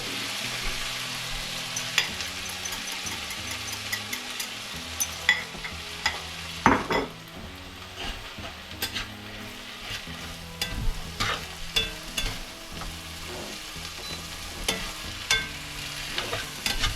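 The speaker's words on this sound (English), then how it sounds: "It's cooling off, the sizzling's calming down, so I just turned it up on high all the way." Steady crackling sizzle of a single egg frying in a pan turned up to high heat, with occasional louder pops and spatters, close up and continuous.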